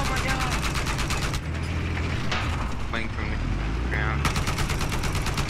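Rapid automatic gunfire from a gunner in a video game, with fast bursts opening and closing the stretch, loud and up close over a steady engine-like drone.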